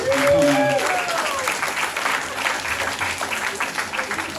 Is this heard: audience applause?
yes